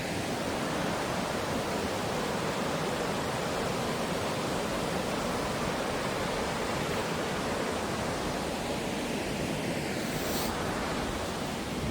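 The Cascade des Étraits waterfall pours in a steady, dense roar of falling water, loud and unbroken throughout, with no voices.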